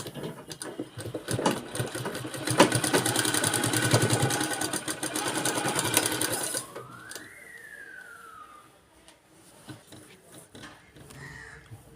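A sewing machine runs in a steady, fast rattling burst for several seconds while stitching along a fabric edge, then stops and leaves quieter rustling and a rising electronic tone.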